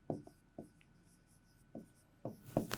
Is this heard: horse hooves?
no